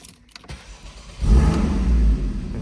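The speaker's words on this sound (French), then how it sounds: "Nous allons démarrer le véhicule." A brief starter whir, then a Porsche Boxster's 2.7-litre flat-six engine fires up with a deep rumble and settles into a strong, steady idle close by.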